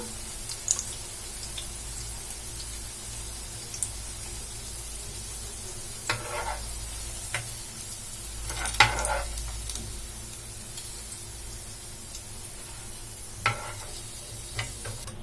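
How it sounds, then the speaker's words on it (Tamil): Red poha vada deep-fries in hot oil, giving a steady, close bubbling sizzle throughout, with a few faint clicks and taps of utensils over it. "இப்ப நம்ம மீதி இருக்க எல்லாத்தையுமே இதே மாதிரி ஆயில்ல போட்டு ஃப்ரை பண்ணி எடுத்துடலாம்"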